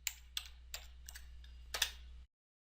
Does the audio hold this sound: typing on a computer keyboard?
yes